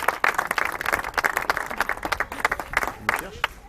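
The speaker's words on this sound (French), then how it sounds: "On peut les applaudir même." Scattered audience clapping at the inauguration of the Stade Jacques Passelègue stadium, a loose patter of uneven claps at moderate distance with talking mixed in.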